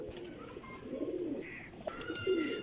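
Close, soft pigeon cooing in low throaty rolls, repeated twice, with faint chirps and light background noise.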